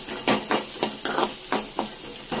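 Sprouts are sautéed in a pan for a Tamil sprouts poriyal, a loud rhythmic scrape of a spatula stirring about every quarter second over a constant close sizzle, with no talking.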